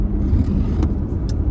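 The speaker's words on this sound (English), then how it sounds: "I decided to drive a little further." A car driving along a road, its engine and tyre rumble steady and close, with a couple of brief clicks or rattles inside the cabin.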